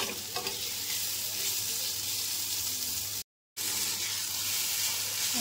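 Chow mein stir-fries in a home kitchen pan with a steady, moderately loud sizzle and a few light stirring scrapes, and a brief moment of complete silence cuts in partway through.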